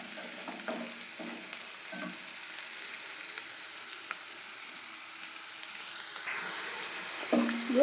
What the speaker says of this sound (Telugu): ఈ ఉల్లిపాయలు బాగా బ్రౌన్ కలర్ వచ్చిన వరకు వేపుకోవడానికి ముందు కొంచెం సాల్ట్ వేసుకోవాలంటే బాగా బ్రౌన్ కలర్ అవుతుంది.